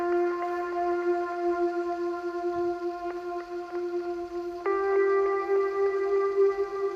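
Piano melody transposed down an octave plays slow sustained single notes with a steady harmonic ring, shifting pitch a few times, heard alone without any talking.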